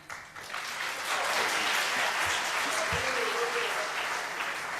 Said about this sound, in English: Clap whenever you want it.